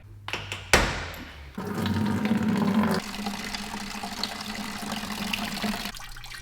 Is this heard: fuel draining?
yes